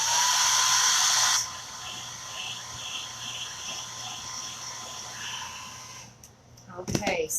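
A blow dryer blasts loudly at close range for over a second, then drops to a lower, steady whine with a voice talking over it, before cutting out near the end.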